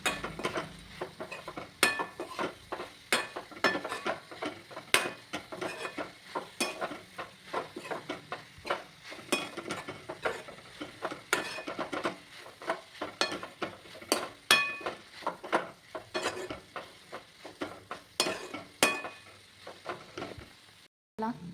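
Spoon or spatula stirring matki (moth bean) curry in a pan, with repeated scraping and clinking strokes in an uneven rhythm over a faint sizzle, close and moderately loud throughout.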